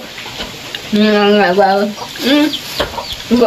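A chicken clucks close by in a few short bursts of rising, throaty calls, with faint background noise around it.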